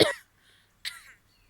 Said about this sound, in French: On dirait que ta vilaine toux n'est pas passée.